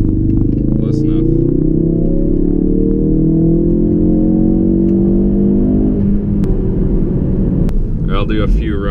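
A Ford Focus RS running a Cobb stage one tune accelerates hard from 40 mph, its engine note climbing loudly and steadily before a gear change, with brief talk near the end.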